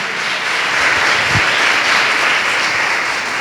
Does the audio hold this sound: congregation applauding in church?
yes